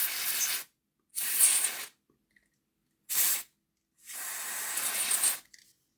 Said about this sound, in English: And give the chassis a scoosh out.